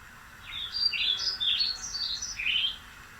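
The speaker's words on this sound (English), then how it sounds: "I want to have some sound effects of some birds in the background" Birdsong sound effects play from a laptop, a string of quick bright chirps and tweets in short bursts over a soft steady background hiss, moderately faint and with no one talking.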